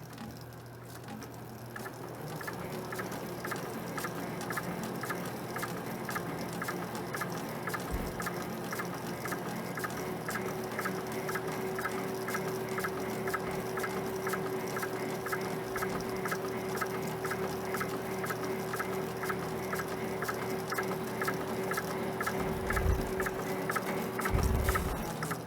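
A printing press runs steadily at moderate speed as the stock is advanced to the die station, giving a quiet, continuous mechanical patter with a faint regular ticking rhythm and a couple of low thumps near the end.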